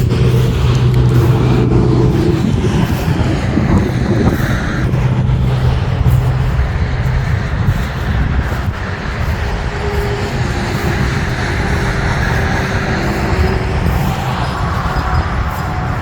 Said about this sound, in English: there's a lot of traffic